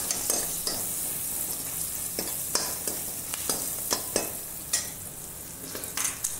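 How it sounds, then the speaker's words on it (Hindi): Onion frying in oil for a dry potato sabzi, with a bright, steady sizzle close by and frequent sharp scrapes and taps of a spoon stirring the pan at an uneven rhythm. "प्याज को अच्छे से फ्राई कर लेना है"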